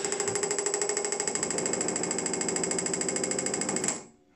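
A cheap HANMATEK HM310 bench power supply oscillating under load at about 2.8 amps, giving a loud, rapid mechanical hammering buzz with a steady rhythmic pulse that runs for about four seconds, then cuts off abruptly.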